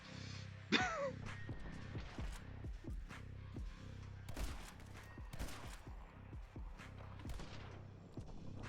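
Shotgun blasts in the video game My Friend Pedro, a dense run of sharp, punchy shots firing in rapid succession over a busy game soundscape, one loud crack near the start, then repeated bursts throughout.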